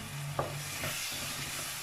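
Besan and yogurt are added to frying onions and spices for Punjabi-style kadhi, giving a brief scrape of stirring and a steady, moderately loud sizzle close by, with no talk.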